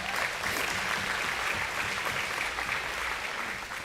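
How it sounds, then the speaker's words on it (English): An outdoor crowd at an agricultural appreciation livestock show applauds an auction company, a steady, fairly faint patter of many hands lasting several seconds with a low rumble underneath. "So let's give him a round of applause."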